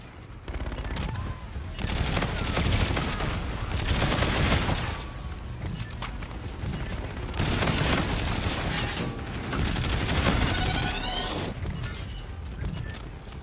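Gunfire in the video game Call of Duty Infinite Warfare: loud, heavy volleys of rapid shots that come in several long waves, with brief lulls between the bursts.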